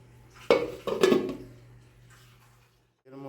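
A metal lid drops onto a cooking pot of Katla fish curry with potatoes and drumsticks, giving two close clattering knocks, the second a little louder, then a soft settling rattle over a steady low hum.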